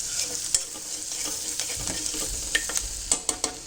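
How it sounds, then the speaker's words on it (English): Onion, garlic and ginger frying in a pan give a steady close hiss of sizzling oil, with occasional scraping clicks as a spoon stirs them, and no voices. "fry it for a couple of minutes. Don't over fry it."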